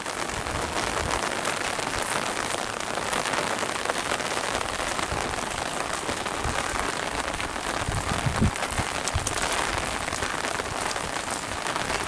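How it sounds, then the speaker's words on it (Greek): Steady outdoor rain in Farsala on a wet October morning, a dense, close hiss of drops drumming on surfaces throughout, with a few heavier splashes and no voices. "Άρχισε πάλι να βρέχει"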